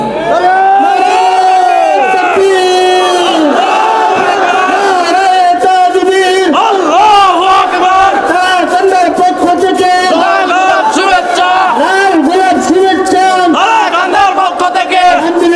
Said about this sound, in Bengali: একটা তাকবীর দেন, যেই তাকবীর এই এলাকায় আগে কখনো এত জোরে তাকবীর হয় নাই